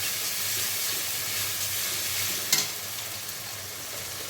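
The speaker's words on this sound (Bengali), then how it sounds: "রসুন একটু ভাজা ভাজা হোক।" Garlic sizzles steadily in oil in a pan with a continuous frying hiss, and a sharp clink of a utensil cuts in briefly midway.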